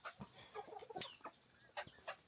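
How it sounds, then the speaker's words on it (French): Rooster with rough, unfinished cock-a-doodle-doo attempts, heard at a distance outdoors at night: several short, scratchy crowing and clucking bursts in an irregular pattern, faint over a hissing background. "Il y a un coq qui est en train d'apprendre à chanter là-bas."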